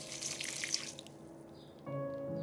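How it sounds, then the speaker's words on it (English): Hot water poured from a kettle onto seedless tamarind pulp in a bowl, a splashy running stream at close range that thins out and then gives way to a steady low hum. "add some hot water,"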